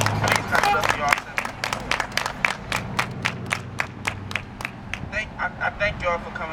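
A crowd at an outdoor community gathering claps in a steady burst of near, loud applause that thins into scattered, rhythmic claps toward the end, with speech over it.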